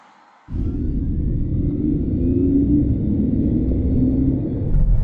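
A Mercedes-AMG GT63 S E Performance accelerates at about 80 km/h, its artificial electric V8 sound a steady, loud low rumble that starts abruptly and builds slightly as speed rises, with no talking.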